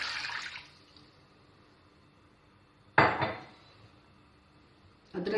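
Three glasses of water splash into a metal karahi holding washed mutton, in short bursts of close, loud pouring separated by a quiet pause, with no one talking.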